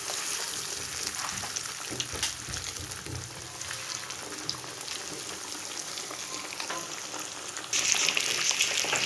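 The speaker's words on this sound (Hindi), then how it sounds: "तो अब इसके अंदर हम एक एक पीस पकड़ के डालेंगे" Chicken chop pieces fry in hot oil in a kadai, giving a steady crackling sizzle close by. Small pops sound throughout, and the frying grows louder and brighter near the end.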